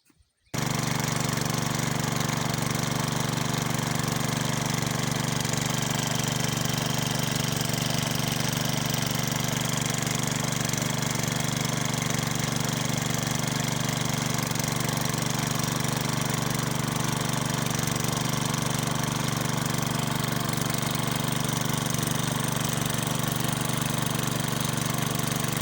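A farm irrigation water pumping machine runs with a steady, loud, droning engine hum and a constant rattling throb, starting abruptly and continuing unchanged with no talking.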